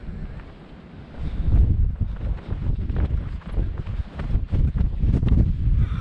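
Blustery north wind on the Welsh coast buffets the microphone in loud, rumbling gusts that surge and fade continuously, with no clear voices.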